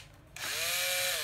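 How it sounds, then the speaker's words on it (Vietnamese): A Hitachi 7V2 cordless drill spins up from quiet to a steady, loud high-pitched motor whine with a slight rising tone, close by, with no talking. "con này cũng khoan Hitachi 7V2 nha mọi người"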